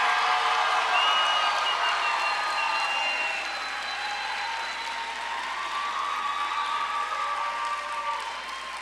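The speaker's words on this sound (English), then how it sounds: "let us have one final round of applause for the class of John J. Duggan" Graduation audience at the John J. Duggan Academy 2022 ceremony applauding the graduating class, a broad, steady wash of clapping and crowd noise that eases slightly partway through and carries on throughout.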